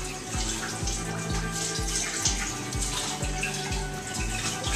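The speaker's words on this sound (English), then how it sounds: "What you want to do is run water in the most wasteful way possible," Tap water runs steadily into a sink as fresh oysters are rinsed, making a broad, constant splashing hiss. Low, regular knocks sound beneath it, and no one talks.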